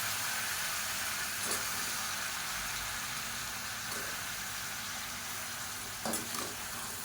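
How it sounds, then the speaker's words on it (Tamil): Eggplant, drumstick, potato and carrot pieces frying in oil for poricha kulambu, giving a continuous even sizzle with a few scraping stirs spaced out, close up and with no voices. "இதை எண்ணெயில் வதக்கி விட்டுக்கலாம்."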